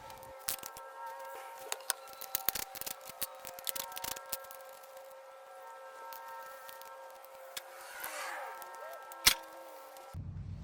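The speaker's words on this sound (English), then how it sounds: "I started unscrewing the terminals with a 10mm socket" A 10mm socket wrench loosens the battery terminals on a Ryobi RM480e riding mower with an SLA battery: irregular close ratcheting clicks and ticks over a steady electrical hum, ending with one sharper snap, no voices.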